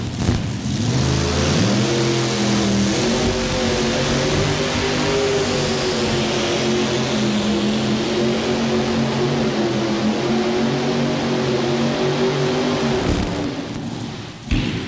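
A mini rod pulling tractor's engine revs hard and loud at a 1989 tractor pull in Louisville, Kentucky, holding a high strained roar with shifting pitch for about thirteen seconds before it suddenly cuts off.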